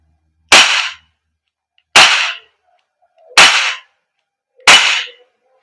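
An Umarex Glock 17 Gen 5 MOS airsoft gas blowback pistol made by GHK fires four sharp, loud cracks, evenly spaced about a second and a half apart, with silence between the shots and no talking.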